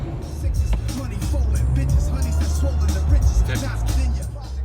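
A $160,000 car being driven, its engine and road noise a steady low rumble and hiss heard from inside the cabin, continuous and fairly loud, with no one talking.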